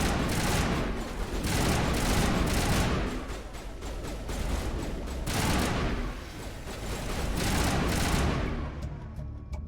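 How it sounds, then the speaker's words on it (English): A Mass Effect firefight: dense, loud bursts of automatic weapon fire overlap in rolling waves, close and continuous, with booming impacts throughout. "Open fire. Open fire!"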